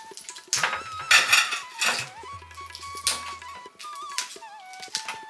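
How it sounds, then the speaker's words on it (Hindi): Cauliflower being washed in a metal pot in a village kitchen, with repeated clattering, scraping and splashing of utensil contact up close, coming in uneven bursts with brief pauses between. "गोभी के धोवत हैं"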